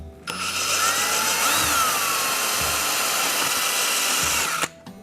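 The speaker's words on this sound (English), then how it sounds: "we'll come back and drill those out." A power drill bores mounting holes into a model railroad layout for a Tortoise switch motor, one continuous close whirring run of about four seconds that starts and stops sharply, with no talk.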